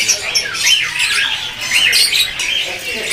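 Anis mata thrush at a bird kiosk, calling with repeated bright squawks and chirps, close and loud, filling the whole stretch.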